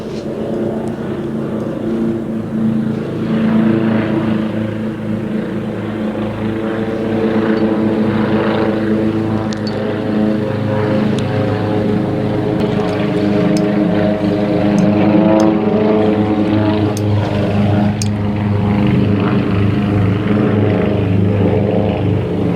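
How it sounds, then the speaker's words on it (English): Propeller aircraft fly over in formation above a country park in South Essex, a loud layered droning engine roar that swells and lingers overhead, with no voices. "the perils of trying to do pieces to camera with aircraft flying over in formation"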